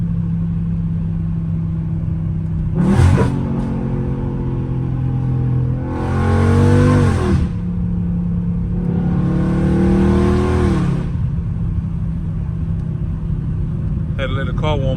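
A Dodge Scat Pack idles steadily while warming up, then its engine revs hard three times, each climbing and falling back, loud and close, with a short pause between bursts.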